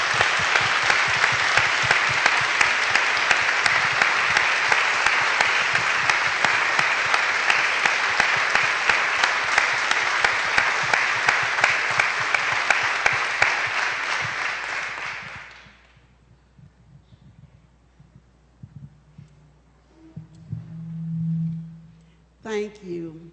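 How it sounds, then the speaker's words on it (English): Audience applause at a Human Rights Campaign event fills the hall: steady, dense clapping for about fifteen seconds, then dies away, leaving quiet room noise with a faint voice near the end. "You deserve a round of applause for telling me."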